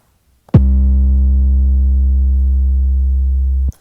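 A single deep, sustained 808 bass note with a gritty, saturated tone, ringing steadily for about three seconds before cutting off abruptly.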